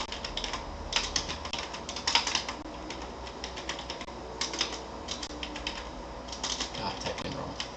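Computer keyboard typing clatters steadily with irregular clusters of close key clicks, some faster flurries and brief pauses, a low background hum underneath and no clear talking.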